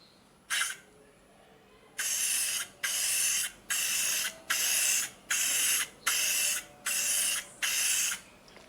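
Nine short hissing bursts from a spray can, laying a third coat onto restored fog lamps, come in a steady rhythm. After one lone burst and a pause, eight follow at even intervals, each about half a second long, close and clear.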